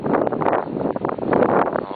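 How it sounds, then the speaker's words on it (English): Wind gusts steadily across the microphone on a snowy day at a farm, a loud, continuous broadband rush that swells and dips without pause for the full stretch. "the wind's gonna bugger this up there"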